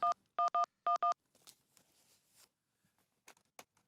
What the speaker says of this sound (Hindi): ये किशन लाल धर्मपुर वाले को लगाता हूँ फोन